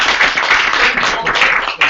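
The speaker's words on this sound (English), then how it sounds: "we should make big applause to the place." An audience at a Garage48 event applauds in a loud, dense burst of clapping lasting about two seconds, with voices mixed in.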